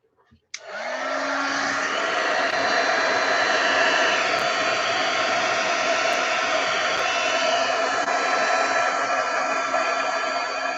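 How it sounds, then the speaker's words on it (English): A heat embossing tool blows hot air to melt embossing powder on a Stampin' Up! paper craft piece. It switches on with a click and then keeps up a steady, close, dryer-like whir for about ten seconds, with no talk over it. "let me heat emboss this. I'm going to make noise, guys."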